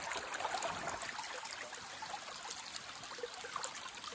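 A forest creek flows steadily near a log crossing, a continuous broad rushing and trickling wash of water with no pauses and no voices.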